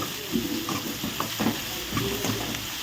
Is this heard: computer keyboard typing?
no